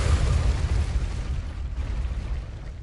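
In Hogwarts Legacy, a fire spell erupts with a loud, rumbling blast that starts at full strength and gradually thins out over a few seconds, with no voices over it.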